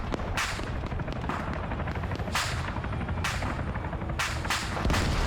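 Arma 3 combat scene with repeated gunfire bursts and sharp shots cracking out at intervals over a steady low rumble of battle, fairly loud and dense, with no talking.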